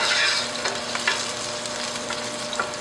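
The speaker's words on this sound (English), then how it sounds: "Now we want to get a little bit of color on this garlic." Garlic sizzles steadily in a hot pan while browning to a golden color, with a few louder stirring scrapes breaking through the constant frying hiss.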